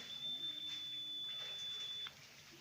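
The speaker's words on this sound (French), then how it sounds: "je débranche, je branche, l'appareil sonne" An electrical installation tester sounds a steady, high, continuous beep for about two seconds on detecting a short circuit, up close, over quiet room noise.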